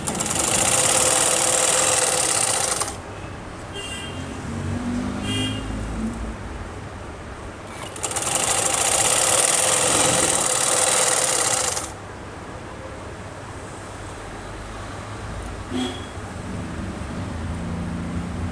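A sewing machine stitches a kameez suit in two steady runs of fast, close whirring, separated and followed by quieter stretches of handling.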